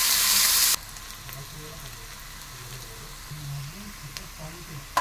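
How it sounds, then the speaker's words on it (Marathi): Finely chopped onion frying in oil with curry leaves in a kadhai, a steady soft sizzle throughout after a loud hissing burst at the start, with faint background noises. "कांदा बारीक कट करून घेतलेला आहे तो आपण मग छानपैकी भाजून घेऊया"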